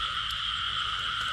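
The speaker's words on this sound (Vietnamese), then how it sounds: "bắt được con ếch đực" Continuous croaking from frogs out in the wet after a big rainstorm, where a male frog was just caught, forms an unbroken, buzzing chorus at a moderate level, with no voices.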